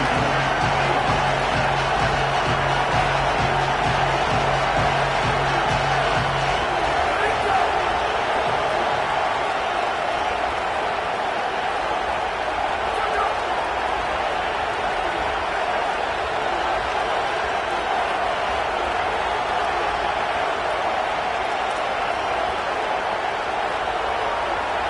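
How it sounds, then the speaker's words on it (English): A loud, roaring stadium crowd at a college football game between North Dakota State and Colorado keeps up a dense, steady wall of noise, with a low hum fading early on. "And with this place rocking, the crowd forces a false start."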